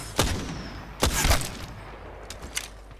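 The Triple Take, a three-bullet energy marksman rifle in Apex Legends, fires a few spaced heavy shots, two strong blasts early and a fainter one near the end, each trailing off with ringing echo.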